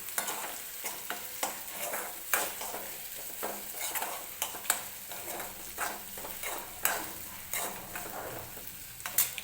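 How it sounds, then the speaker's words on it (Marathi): Ground dry coconut being mixed into roasted tomato for a black pavta bean usal makes repeated rhythmic scrapes and taps of a spoon against the pan over a soft, steady sizzle. "व्यवस्थित मिक्स करून घेते."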